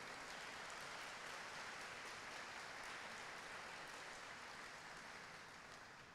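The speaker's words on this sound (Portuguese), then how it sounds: "Pode aplaudir ao Senhor." A large church congregation claps continuously during a service in a dense, even wash of applause that fades slightly toward the end.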